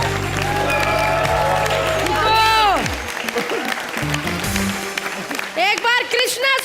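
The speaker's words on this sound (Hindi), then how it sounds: "जोरदार तालियां हमारे चंकी जी के लिए।" A studio audience on a comedy show applauds loudly as a dense wash of clapping that fades out midway, with music and a presenter's voice over and after it.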